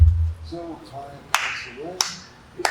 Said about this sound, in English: I'm gonna clap because this woman just gave a great answer